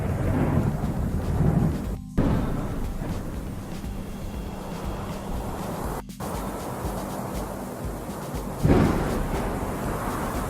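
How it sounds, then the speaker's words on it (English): Steady wind with distant rumbling thunder strikes for a full-moon werewolf horror atmosphere, a continuous dark roar with a couple of brief dropouts and a swelling rumble near the end, no voices. "The background is basically some wind and faraway thunder strikes to create a kind of classical full moon scary atmosphere"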